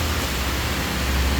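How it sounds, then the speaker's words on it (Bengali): Heavy rain pours in a steady, dense, close wash of noise with no breaks or voices. "আজকের বৃষ্টি এক কথায় সাংঘাতিক লেভেলের বৃষ্টি হচ্ছে, সাংঘাতিক লেভেলের বৃষ্টি"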